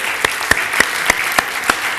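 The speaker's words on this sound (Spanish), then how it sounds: "Un aplauso fuerte para ellos." Applause at a church gathering, with sharp, evenly spaced claps in a steady rhythm, about three per second, over a soft background murmur.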